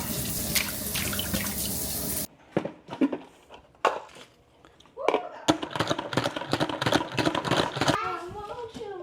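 Tap water runs in a kitchen sink while bok choy is rinsed by hand, with loud splashing that gives way to quick irregular sloshes and clatter, then resumes as steady running water; a voice is briefly heard near the end.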